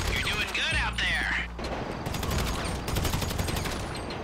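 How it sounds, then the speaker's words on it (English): Carbine Rifle Mark II fire in a video game, a voice talking first, then rapid bursts of loud, close automatic shots crackling continuously to the end. "there isn't many better than a carbine rifle Mark II"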